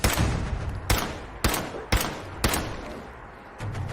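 Sniper rifle fire in the video game Fallout 4, five sharp, loud shots spaced about half a second apart, each trailing off into a rumbling echo, with no talk.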